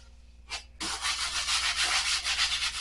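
Sandpaper is pushed hard across furniture in repeated close rasping strokes, a short scrape followed by steady rhythmic sanding.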